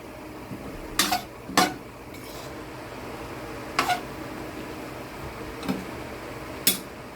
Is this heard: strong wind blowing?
no